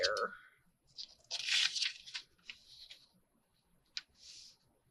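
Long sheet of paper being folded into a folio, with crisp crinkling and creasing bursts and a few sharp paper snaps at close range, while a voice talks faintly at the start.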